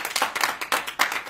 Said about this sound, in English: Can I get a hand clap right there